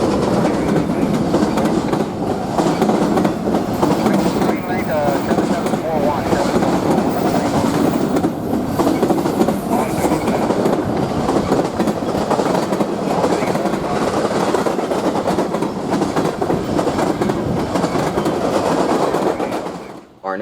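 BNSF freight train 7101, carrying an H1 and moving at almost 55 miles an hour, rolls by on the Southern Transcon line, a loud, steady roar of wheels and cars with a rhythmic clickety-clack that stays close for the whole pass before cutting off at the end.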